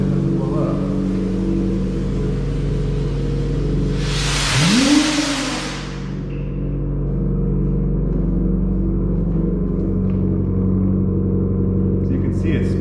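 A small homemade ground bloom firework loaded with black powder spins up, giving a loud, close whooshing hiss for about two seconds over a steady low engine-like rumble, then dies away.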